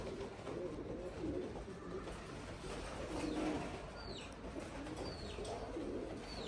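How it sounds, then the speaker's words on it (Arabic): Pigeons in a loft coo softly at close range, with a few brief chirps and flutters over a low background murmur. "غادي يبقاو الحمام يضربوا، داكشي علاش ما بغيتش نطيرهم"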